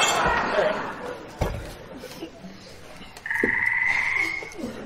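Indoor ambience with a frog croaking in short bursts, a thud and a sustained high whistle-like tone, faint background voices underneath.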